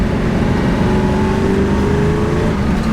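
A 1968 Chevrolet Camaro RS/SS with a 396 big-block V8 and 3.73 gears runs steadily under load, a loud, close, continuous engine drone with a rising tone as it pulls through a shift.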